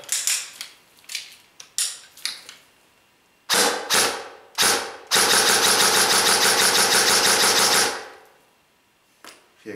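An electric airsoft gun powered by an AK Energy LiPo battery fires short clicking bursts, then a sustained full-auto buzzing volley lasting nearly three seconds, loud and close, before going quiet.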